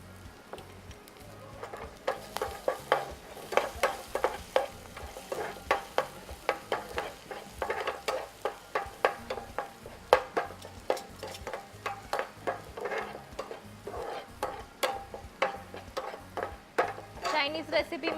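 Finely chopped garlic and ginger sizzle in hot oil in a pan for a Chinese dish, under a steady rhythmic scraping and clacking of a spoon stirring close by.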